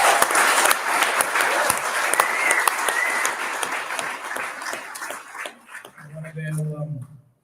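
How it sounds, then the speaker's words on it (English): Enthusiastic applause and cheering from a bar crowd at a live wrestling-show event in a lounge, fading out over several seconds before a short stretch of voice at the end. "everyone give DArren Bergwerf another clap"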